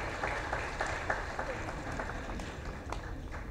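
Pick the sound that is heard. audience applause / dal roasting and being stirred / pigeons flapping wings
audience applause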